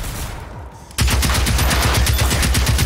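Automatic gunfire in the video game Generation Zero, a sudden loud burst of rapid, evenly spaced shots that starts after a quieter moment and keeps going.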